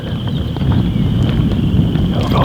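Morning wind rumbles against the microphone outdoors, a steady low buffeting roar held close and loud throughout, with a faint thin tone above it and no one speaking.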